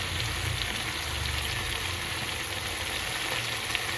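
Green chillies fry alongside chicken pieces on a tawa, producing a continuous hissing sizzle with a low rumble underneath, even and close.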